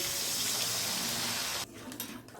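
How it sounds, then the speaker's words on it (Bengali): Water is poured into a simmering curry of potatoes and spices, a steady close rush of liquid for over a second that then stops abruptly, leaving a faint residual trickle. "কষানো হয়ে গেছে, এবার আমি একটু জলটা দিয়ে দিলাম।"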